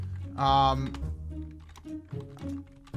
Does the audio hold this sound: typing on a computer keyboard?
yes